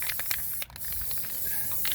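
Short bursts of aerosol spray paint hiss close by as a watering can is painted outdoors, pulsing in quick sputters with a brief pause partway through.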